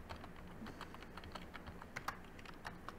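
Fast, irregular keystrokes clatter on a computer keyboard while someone enters commands in a modded Minecraft survival game, a steady soft patter of closely spaced clicks with no voices.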